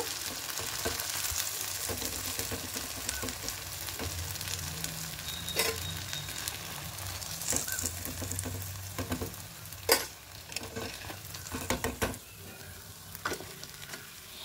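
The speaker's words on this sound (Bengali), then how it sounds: "এভাবে বাকিগুলো মুচমুচো করে ভেজে নেব।" Chira kachuri, crisp flattened-rice stuffed pastries, fry in hot oil over high flame, giving a steady bubbling sizzle with scattered clicks and scrapes from turning them, moderately quiet and without speech.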